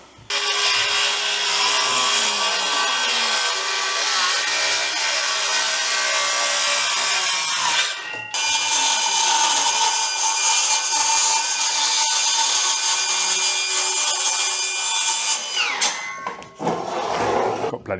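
Milwaukee cordless circular saws, M12 and M18, cutting through wood: a loud, sustained high-pitched whine of the blade in the timber, a brief dip near the middle, then the cut ends and the motor spins down.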